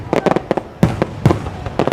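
Fourth of July fireworks exploding all around, a rapid run of sharp cracks and booms at uneven intervals, some close and loud, with voices mixed in among the blasts.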